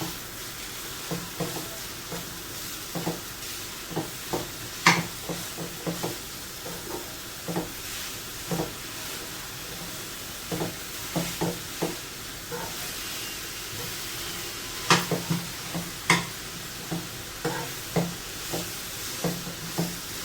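Jaggery melts in a pan over a low gas flame for modak filling, stirred with repeated scraping taps at a loose, steady rhythm over a soft, continuous sizzle.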